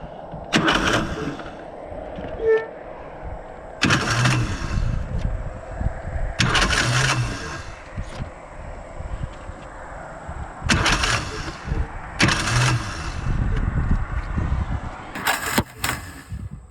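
A racing lawn mower engine with broken flywheel teeth is cranked repeatedly, giving about six loud, short sputtering bursts separated by pauses, failing to catch each time.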